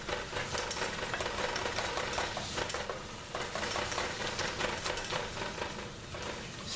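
Ground meat browning in a skillet for queso dip, a soft continuous sizzle and crackle with occasional scraping of a utensil, fairly quiet and steady with no voices.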